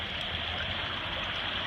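The Willamette River flows past a riverbank in a steady, unbroken rush of water that stays close and even throughout, with no voices.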